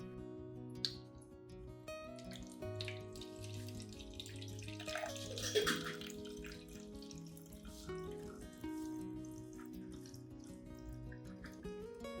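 Cinnamon water solution is poured into a spray bottle, a faint continuous trickle and splash of liquid beneath soft background music.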